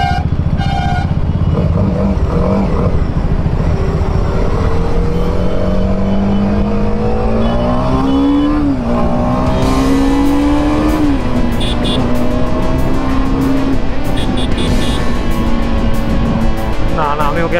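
A Yamaha MT-15 motorcycle speeds past on the road. Its engine note rises and falls loudly over steady wind and road noise from the recording bike, with no talk.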